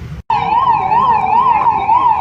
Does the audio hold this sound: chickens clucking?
no